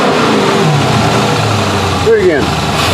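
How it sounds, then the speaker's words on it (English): A modified car, fitted with an oil catch can, idles and revs briefly with a rise in engine note near the end, close by under a voice. "Go ahead and give it a little gas."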